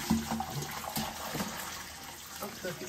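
Cooking liquid from a mole manchamanteles pot being poured off into a kitchen sink, a soft, steady splashing and running-water wash at low level with some faint background noise.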